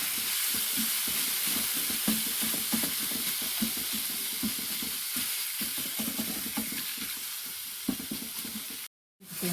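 Chicken pieces frying in a pan and being turned, a dense continuous sizzle with irregular scraping stirs throughout, close and fairly loud.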